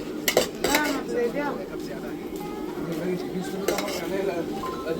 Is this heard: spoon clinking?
yes